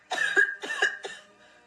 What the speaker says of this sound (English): Peter coughed as his nose and mouth were flooded from the disturbed dust where he fell